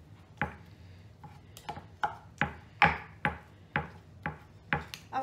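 Shredding cooked chicken with a fork and knife, a series of about eleven distinct close clacks and scrapes of utensils against a plate or board at a fairly regular pace, with no talk.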